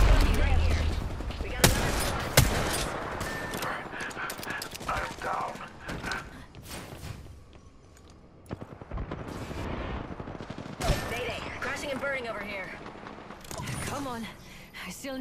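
Sharp bursts of gunfire crack out in an Apex Legends battle royale match. A few loud volleys cut through a dense mix of mechanical clatter and game noise, and a voice talks throughout.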